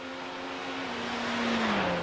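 Race cars in the iRacing video game, LMP2 and GTE classes at the Charlotte Roval, drone past with a steady engine tone that slowly shifts pitch, at moderate level under a broad noise bed.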